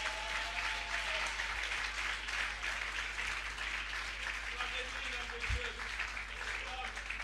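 Congregation applauding and cheering during a Sunday church service, a dense continuous wash of clapping with mixed voices, steady and fairly loud throughout.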